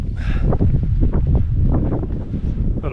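Steady, heavy wind on the Puy de Sancy mountain in Auvergne buffets the microphone with a constant low roar, strong and close throughout, with no voices.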